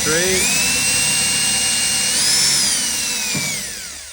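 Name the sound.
power drill drilling spot welds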